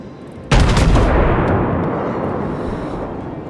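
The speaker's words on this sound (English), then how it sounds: "Let's let out one salvo and let's just get out of his range." A World of Warships Myogi battleship fires a naval gun salvo: one sudden loud boom that rolls out into a long, slowly fading rumble, with no talking.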